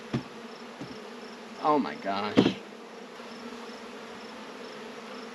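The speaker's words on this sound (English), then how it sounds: "Okay, so there are definitely bees" Honey bees buzzing steadily around a swarmy nuc hive, a constant close drone with a few louder passes of bees near the microphone while a person briefly exclaims.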